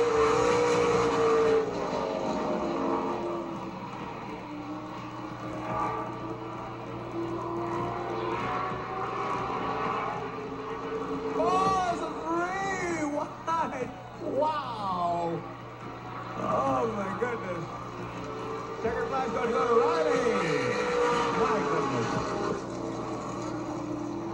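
Race cars roar through the final lap of a trophy dash at Altamont Raceway Park in Livermore, 2003: a steady, loud engine drone with rising and falling pitch sweeps as cars pass, continuous throughout.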